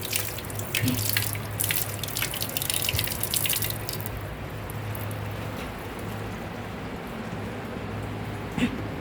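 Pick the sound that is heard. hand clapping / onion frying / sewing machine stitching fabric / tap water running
tap water running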